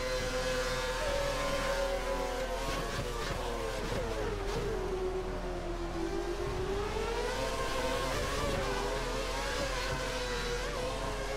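Formula 1 car from the F1 2013 racing game at Catalunya, its engine droning steadily throughout with pitch rising and falling through gear changes and throttle shifts, loud and continuous with no talk.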